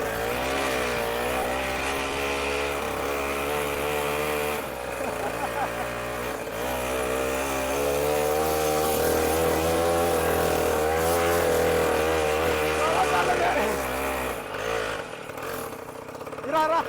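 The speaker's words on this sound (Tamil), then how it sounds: "இந்த வண்டியை வந்து நம்ம ஆஃப் ரோடில் ஓட்டுறதுக்கு செம்ம என்ஜாய்மெண்ட்டாக" A homemade Mahindra mini jeep engine drives off-road, a steady loud motor drone with shifting harmonics that rises and falls with throttle for about fifteen seconds before easing off, continuous and close.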